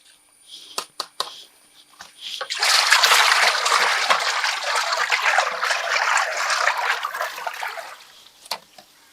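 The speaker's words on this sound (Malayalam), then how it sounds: "ഇതും കൂടി ഈ നൂറ് ലിറ്റർ വെള്ളത്തിലേക്ക് നമ്മൾ മിക്സ് ചെയ്യാം" Bleaching powder and Bavistin are mixed into 100 litres of water, with a few light clicks first and then several seconds of sustained sloshing and splashing before it settles.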